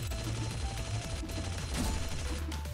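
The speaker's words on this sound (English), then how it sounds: "there's explosions everywhere immediately" Explosions in the action game Blade Assault, a dense chaotic barrage of rapid blasts and crackling bursts layered over a continuous game soundtrack.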